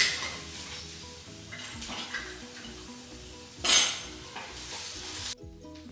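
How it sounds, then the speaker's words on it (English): Chopped ginger and garlic sizzle in hot oil in a pan, a continuous hiss broken by a spoon scraping and clinking against the metal, with one louder stirring burst midway. "When hot, add chopped ginger and garlic. Fry for about 20 seconds."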